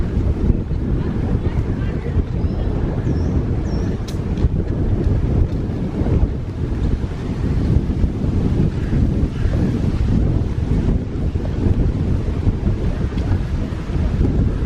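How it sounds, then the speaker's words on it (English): A cool breeze off a river in France near Trévoux buffets the microphone in loud, continuous gusts, with a low rumble of moving water beneath. "Always a nice cool breeze coming off of there."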